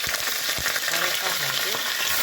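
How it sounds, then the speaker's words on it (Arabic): Chili peppers frying in hot oil in a pan for a chicken shtitha dish, a steady close sizzle and crackle with scattered pops and no voices. "بعد ما سخنت نديرو هذا راس تاع الحار ينقلى"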